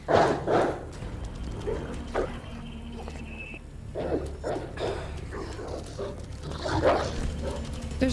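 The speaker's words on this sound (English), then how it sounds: "There's nothing I can do about this stupid dog." A dog in the video game Resident Evil 2 barks and yips in repeated sharp bursts over the game's rumbling background, several loud barks spaced across the stretch.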